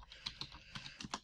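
A computer keyboard is typed on in a short burst of quick, light keystrokes, about a dozen soft clicks heard close and faint with no talking.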